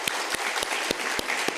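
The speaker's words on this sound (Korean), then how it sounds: "오늘 우리의 감사와 찬양을 받으실 하나님께 영광의 박수 올려드리겠습니다." A church congregation applauds in worship during a Sunday service, a steady wash of many hands clapping with occasional sharper nearby claps standing out, moderately loud and continuous.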